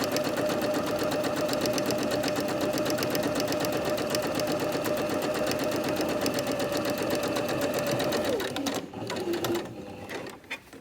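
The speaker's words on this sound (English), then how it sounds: "in the machine, back stitch to the end to secure my threads" A sewing machine runs steadily and close for several seconds, stitching a single hem on fabric and back stitching at the end to secure the threads, then slows and stops near the finish.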